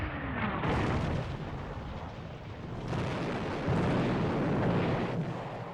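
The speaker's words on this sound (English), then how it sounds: "The British open fire." Naval artillery fires in the strategy game Hearts of Iron 4 as a continuous roll of deep, rumbling booms, with two louder surges, heard alone without speech.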